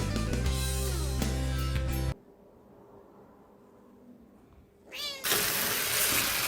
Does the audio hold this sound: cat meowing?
yes